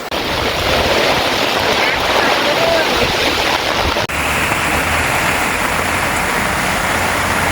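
Heavy rain and gusting wind batter a Japanese-style tent campground at Khao Yai Thiang, a loud, dense hiss that stays constant with a sudden shift in tone partway through.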